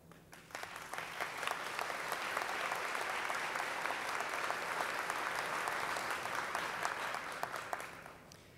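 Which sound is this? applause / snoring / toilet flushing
applause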